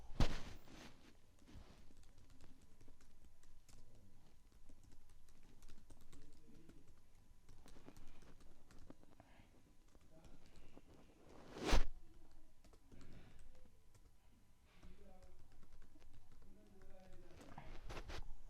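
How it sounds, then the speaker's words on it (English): Quiet, irregular clicking of keys on a computer keyboard, close by, with short bursts and pauses and one louder knock partway through. "So let me just type that right now."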